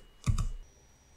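A couple of quick computer keyboard keystrokes, entered as a command in a software setup, give a brief, close double click with a soft thump, then near silence.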